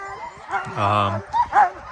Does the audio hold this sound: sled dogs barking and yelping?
yes